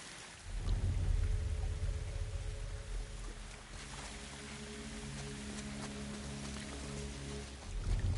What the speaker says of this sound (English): Storm's pretty bad.